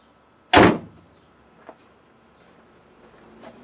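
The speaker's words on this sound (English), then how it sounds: "Open the hood, close the hood." The hood of a 2011 Hyundai Elantra Touring shuts with a single loud, close thump, followed by a few faint clicks and small knocks.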